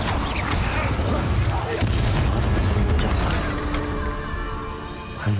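Incendio fire spell cast in Hogwarts Legacy, a loud, dense burst of roaring, crackling blasts and booming impacts that runs almost unbroken across the moment, thick in the low end with sharper flares on top.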